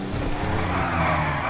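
Car tires skidding and squealing under handbrake in Grand Theft Auto 5, a continuous loud screech over engine roar lasting throughout.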